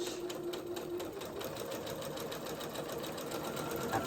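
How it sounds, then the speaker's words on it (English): Sewing machine running steadily through a 5/8-inch seam on a New Look N6604 garment, a continuous, fairly loud mechanical whir with a rapid needle rhythm and no speech. "So let me pin mine up and sew it."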